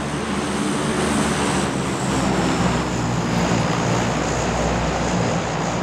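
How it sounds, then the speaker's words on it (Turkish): A propeller airplane drones overhead in the PUBG battle royale video game, a loud, steady, broad roar holding for several seconds with no talk over it. "Ya hay uçak sesinize tüküreyim sizin ya."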